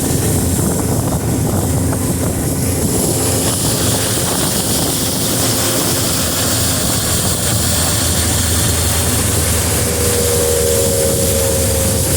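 Pontoon boat engine fitted with copper mufflers, droning loud and steady throughout, heavily buffeted by wind noise on the open water.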